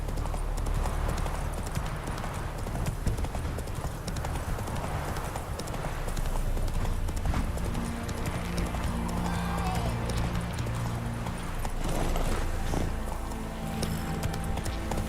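A horse in the Witcher 3 video game gallops with rapid, rhythmic clip-clop hoofbeats throughout, steady and prominent over ambient game sound.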